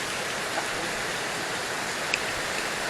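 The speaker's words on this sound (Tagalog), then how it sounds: "Lakas ng ulan." Steady, dense hiss of heavy typhoon rain pouring down in Malabon during flooding, constant and enveloping with no pauses.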